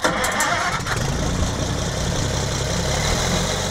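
An Oliver farm tractor engine cranks and catches, then settles into a loud, steady running drone with a faint mechanical whine.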